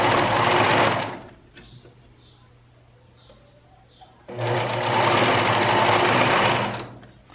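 A sewing machine stitches a narrow fabric strip in two loud, fast runs of needle chatter separated by a quiet pause of several seconds.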